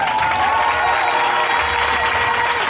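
A church congregation applauding during a Sunday service, loud, dense and continuous clapping from a large crowd with faint cheering, steady throughout.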